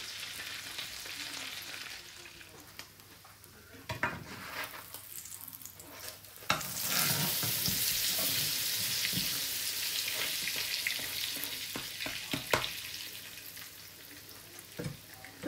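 A grilled cheese sandwich frying in oil in a pan, a continuous soft sizzle that swells louder midway, with occasional clinks and handling noises nearby.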